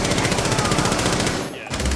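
Sustained automatic gunfire in Rainbow Six Siege as a magazine is dumped into the floor, loud rapid bursts filling most of the clip before a brief gap and a final burst.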